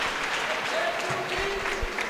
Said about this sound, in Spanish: Aplausos para Emilio Estuki